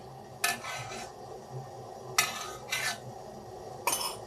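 Metal lids scraping and twisting onto glass jars of pickled cucumbers, three separate bursts of gritty grinding with quiet pauses between.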